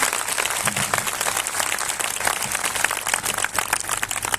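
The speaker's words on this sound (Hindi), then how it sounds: "जिनको समझ आया जोर से ताली बजाएं और परमेश्वर की बड़ाई करें, और जोर से ताली बजाएं, परमेश्वर की बड़ाई करें।" A congregation at a 2023 spiritual fellowship conference in Umarpata claps loudly and steadily, a dense continuous wash of hands filling the room with no voices standing out.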